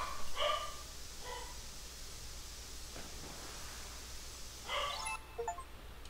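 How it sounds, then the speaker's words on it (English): A dog barks a few times in the background, sharp yips early on and again near the end, faint and distant against a steady hiss. "my dog is barking in the background"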